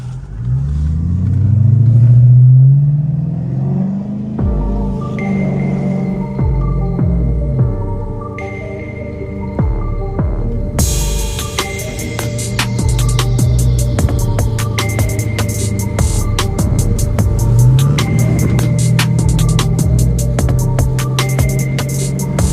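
A car is test driven by its new owner, its engine humming and throbbing with swelling revs and accelerations over a steady drone, with crackling static-like noise through the latter half.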